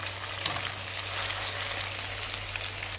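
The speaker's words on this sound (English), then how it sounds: "we'll just fry them until they're a nice golden brown" Schnitzels fry in a pan until golden brown, giving a continuous bright sizzle and crackle with a faint low hum beneath, steady throughout and free of talk.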